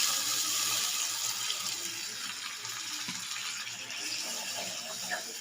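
Water poured steadily into a cooking pan for fish curry, a continuous close splashing hiss that runs the whole time with no talk.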